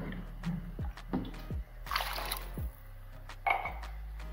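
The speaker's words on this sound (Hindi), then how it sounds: "1 कप 2 कप तकरीबन इसमें हम पानी डाल देंगे ताकि आलू गल जाएं।" Water from a cup poured into a pot of potatoes as they cook for a Pakistani village egg-and-potato dish, a few splashing pours and trickles, close by, with brief gaps between them.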